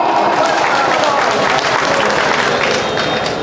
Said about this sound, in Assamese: আপোনালোকে নিজৰ বাবে এটা হাত চাপৰি দিয়ক